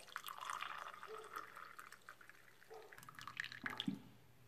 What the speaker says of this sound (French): maintenant cette eau, je vais la mettre dans le verre